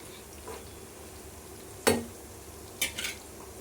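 Bitter gourd slices fry in a pan with a soft, steady sizzle, broken by a few close, sharp metallic scrapes and clinks of stirring.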